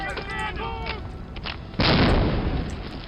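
A heavy, rumbling grenade blast in Medal of Honor: Allied Assault erupts partway through and fades slowly, following some brief tonal sounds, like game explosions heard through speakers.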